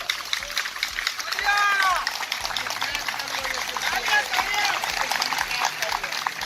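A large crowd of government employees at a gathering breaks into loud, sustained clapping, with scattered shouting voices rising through the dense applause.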